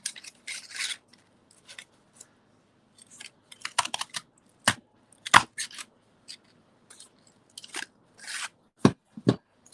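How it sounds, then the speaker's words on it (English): A craft punch cuts a heart shape from cardstock, with scattered paper rustling, scraping and several sharp, close clicks and crunches from the punch at irregular intervals. "We're just going to punch a heart out of that, just keeping it fairly simple."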